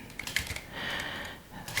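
Crisp retro typewriter keys clatter in quick, uneven bursts with a sharper strike near the start and end, close and fairly quiet, with no voice.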